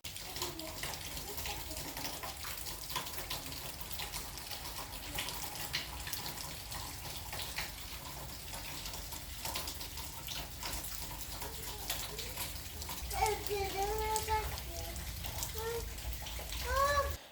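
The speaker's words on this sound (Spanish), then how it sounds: "Como veis, nos ha pillado la lluvia, pero siempre es bienvenida." Steady rain falls outdoors, a dense, even wash of patter throughout, with faint voices and a brief closer rustle near the end.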